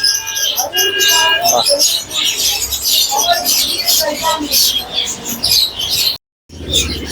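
Dense, bright chirping and tweeting from many caged birds fills the Bamongachi bird market, continuous and close, with voices talking underneath.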